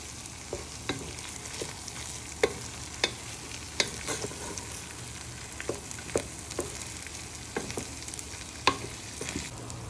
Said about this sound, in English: Just give it a little careful stir in.